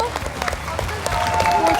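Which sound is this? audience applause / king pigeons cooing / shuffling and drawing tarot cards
audience applause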